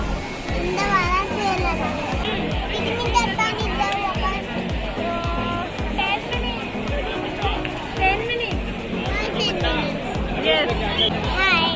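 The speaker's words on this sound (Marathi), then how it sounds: "प्रचंड गर्दी आहे" A dense, busy crowd at Aqua Imagica water park, with children shouting and playing amid steady babble from many voices, loud and continuous throughout.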